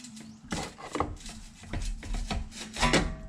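Metal scraping and rubbing as a 2022 Yamaha motorcycle's exhaust pipe is worked loose and slid off after its clamp is undone, a series of short close scrapes, knocks and clunks of varying loudness with no talk.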